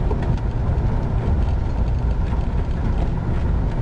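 A 1978 Ford LTD's engine runs steadily while warming up, a loud, continuous low rumble with no pauses and no talk over it.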